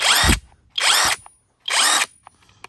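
Stromo AWA25 cordless impact wrench fires three loud bursts of about half a second each, separated by short pauses, with faint clicks and handling noise after the final run.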